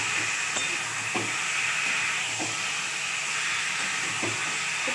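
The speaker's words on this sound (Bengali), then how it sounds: "এবার আমি ম্যারিনেট করা মাছটা দিয়ে দেবো।" Marinated fish sizzling in hot oil gives a steady, loud, broadband hiss that fills the whole clip, with faint intermittent clinks and pops underneath.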